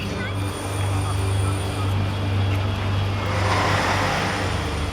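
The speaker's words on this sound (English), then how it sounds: "A brand new Boeing 787 Dreamliner makes an emergency landing." Boeing 787 Dreamliner airliner on an emergency landing at Takamatsu, Japan, heard as a steady, loud broadband jet roar with a low hum, swelling slightly toward the end.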